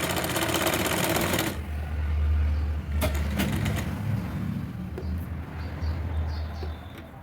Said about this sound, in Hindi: आस्तीन की सिलाई करेंगे।